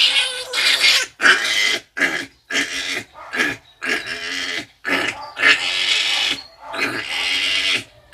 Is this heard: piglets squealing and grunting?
yes